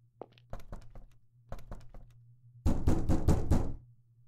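A stuck door in The Crooked Man horror game, a sequence of loud thudding knocks and rattles, first in short bursts, then a fast heavy rattling run near the end, with no talk over it.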